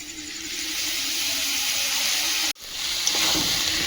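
Malabar spinach (pui shak) fries in a pan with a steady, close hiss and sizzle, broken by a brief cut, then sizzling a little louder and brighter afterward; no one speaks.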